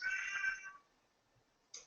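A house cat meows during an online business webinar, one drawn-out cry that fades, then a brief second call near the end, fairly close and alone without speech over it.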